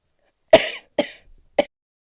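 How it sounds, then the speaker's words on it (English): Three sharp coughs from a woman, close and loud, arrive in quick succession about half a second apart, each a harsh burst that trails off briefly, against otherwise silent surroundings. "I was trying to catch that cough"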